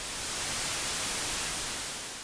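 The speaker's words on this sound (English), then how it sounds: "Full-scale white noise is essentially too much energy" Full-scale white noise test signal, a steady, loud, broadband hiss that holds constant for the whole stretch with no other sound.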